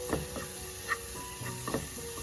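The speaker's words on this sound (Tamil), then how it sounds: "இது அப்படியே ஸ்டிர் ஃப்ரை ஆகட்டும். ஒரு மீடியம் ஃப்ளேமில் தான் வச்சுருக்கேன்." Sambar spices stir-fry in a pan over a medium flame, a quiet, close sizzle broken by a few light stirring scrapes.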